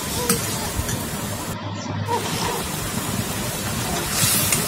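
Onions and egg frying in a pan while being stirred, a steady broadband sizzle with scraping strokes, close and continuous with no talk over it.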